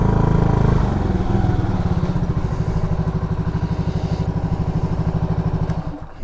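A 150cc RPS Condor Grom-clone motorcycle runs close by while ridden, its engine buzzing in a steady, fast, pulsing drone that rises briefly at first, then holds and drops off at the end.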